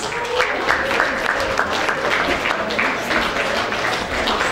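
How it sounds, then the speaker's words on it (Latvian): Sustained audience applause at an outdoor Latvian music festival stage event in Aizkraukle, dense clapping from a large crowd holding steady and loud throughout, with faint voices mixed in. "Skaļāks aplausus, skatītāji!"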